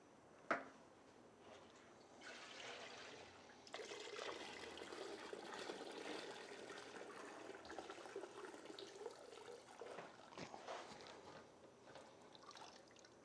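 Rusty water drains from the fuel tank of a 1972 Honda CB350, a steady splashing trickle running into a container for most of the stretch after a brief knock near the start, with no talk.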